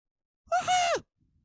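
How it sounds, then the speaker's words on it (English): A single human yawn, a rising then falling voiced exhale lasting about half a second, close and clear against near silence, followed by faint soft rustling. "Sorry, I had to yawn."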